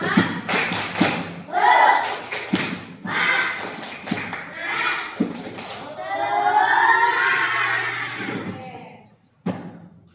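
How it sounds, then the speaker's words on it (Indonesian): A group performs a rhythmic spirit clap in a training session, sharp claps and thuds in bursts across the clip with talk mixed in between. "Coba tepuk semangat."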